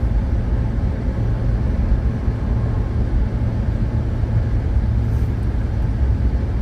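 Steady low road rumble from inside a hybrid Jeep driving home, an even engine and tire drone with no talk.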